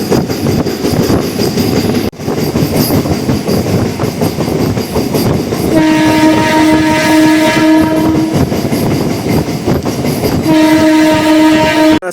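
A MEMU passenger train runs past Velpur station with a steady rumble of wheels and carriages, and its horn blares loudly twice in long sustained blasts.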